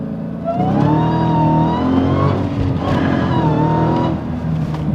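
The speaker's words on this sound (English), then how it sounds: "Got a nice little burnout there." A 2023 Dodge Hornet RT plug-in hybrid SUV doing a burnout, its engine and tires roaring loud and steady throughout, with rising whine-like tones over a continuous dense rumble.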